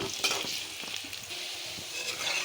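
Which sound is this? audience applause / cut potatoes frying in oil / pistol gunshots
cut potatoes frying in oil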